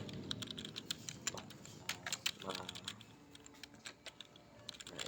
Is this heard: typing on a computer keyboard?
yes